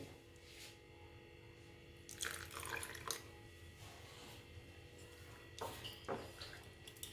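Water from a tap is added to vegetable paratha dough during kneading, with brief faint splashes and squishy pours in a few short bursts in a quiet kitchen.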